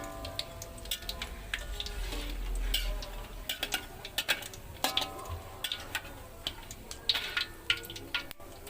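Pumpkin fritters being lifted out of hot frying oil give a soft sizzle, broken by irregular sharp clicks and taps from utensils against the pan.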